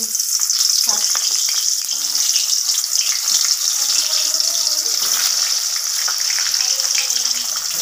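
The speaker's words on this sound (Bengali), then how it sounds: "এই যে বেগুন ভাজা হচ্ছে" Eggplant slices, salted and coated in turmeric, fry in hot oil in a pan, giving a loud, steady crackling sizzle that runs throughout with faint clinks and small spatters.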